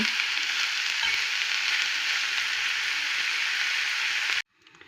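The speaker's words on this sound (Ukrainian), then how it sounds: "2 столові ложечки олії без запаху, висипаю моркву цибульку і гриби е, мішую і буду прожарювати до м'якості." Carrots, onions and mushrooms fry in unscented oil in a pan, giving a steady, close, loud sizzle that holds evenly for over four seconds and then cuts off abruptly, leaving quiet.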